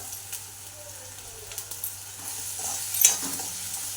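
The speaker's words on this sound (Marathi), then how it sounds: "ते टाकून झाल्याच्यानंतर थोडं हलवून घ्या." Ingredients frying in a pan sizzle softly over low gas while a utensil stirs them, with occasional scrapes and taps and a brief louder clatter near the end, all fairly quiet and without talk.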